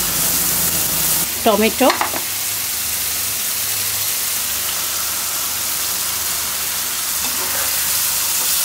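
Spice paste of chili powder, turmeric, cumin and coriander powder frying in a pan, giving a steady, loud sizzle throughout, with a short spoken word near the start.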